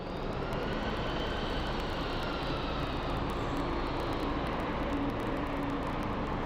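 An Embraer airliner at Sky Harbor International Airport, heard as a steady, loud jet engine roar that holds evenly throughout without voices.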